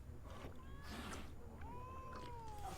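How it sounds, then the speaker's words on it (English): Cats in The Witcher 3 video game meow and yowl at a passing character, several drawn-out wailing calls, the last one long and sliding, over a steady ambient game background. "Also, all the cats are scared of Geralt"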